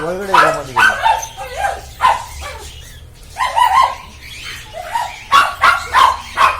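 Dogs at a home in Mysore bark and yip in quick, loud bursts, close by, with voices and other background sound mixed in.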